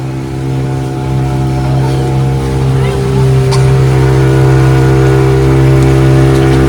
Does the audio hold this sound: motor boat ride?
yes